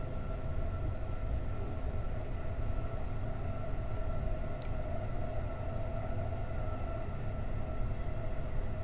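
Steady low rumble and rhythmic clatter of two trains running side by side on parallel rails toward Tokyo Station, one the Sunrise sleeper, with a continuous hum throughout and no voices.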